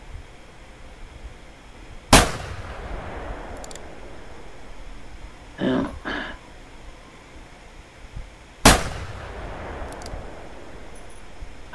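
Two sharp, loud rifle shots about six seconds apart ring out in The Hunter Classic while hunting moose or bison in Whiterime, each cracking and then decaying. A softer double thump falls between them.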